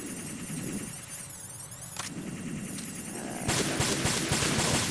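Bursts of gunfire from Metal Gear Solid 2: Sons of Liberty, heard as sharp shots over a steady game background, with a denser, louder volley of rapid cracks near the end.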